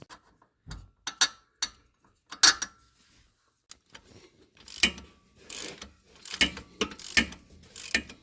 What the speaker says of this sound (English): The first thing we're going to do is disconnect the sway bar end links from the axle on both sides.